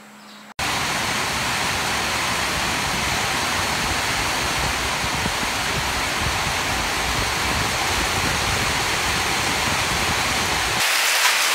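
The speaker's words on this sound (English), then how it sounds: "It is raining again." Steady, dense hiss of rain pouring down, starting abruptly and continuing evenly and loudly throughout.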